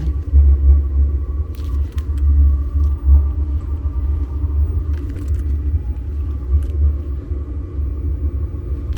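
A Chinese diesel heater fitted under an LDV Maxus van runs with a loud, close, low exhaust rumble that pulses unevenly throughout, with a few faint clicks above it.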